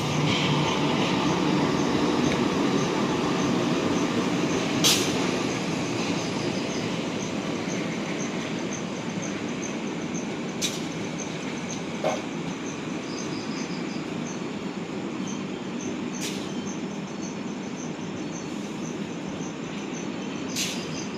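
Intercity train Sawunggalih hauled by a CC 201 locomotive, heard from inside as a steady rolling rumble with faint rail clicks and occasional sharp metallic ticks, continuous throughout with no talk.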